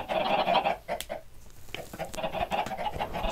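Minecraft chickens clucking in a rapid, busy series of short squawks and clucks, close and fairly loud, with several birds overlapping.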